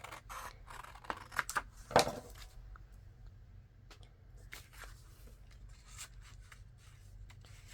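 Scissors trimming a strip of paper for a handmade envelope journal, a few quick close snips clustered early with a louder cut near two seconds, then quieter paper handling and faint rustles.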